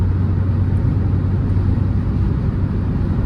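A Fiat Linea 1.6 Multijet on a highway gives a steady, loud low engine and road rumble heard from inside the cabin, with no clear rise in pitch.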